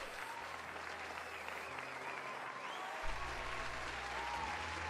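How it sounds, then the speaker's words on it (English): Steady applause from a small audience after a guest is introduced on a Dungeons & Dragons homebrew show, fairly faint and even throughout, with a soft background tone underneath. "Round of applause."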